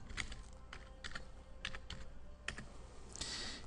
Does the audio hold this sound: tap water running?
no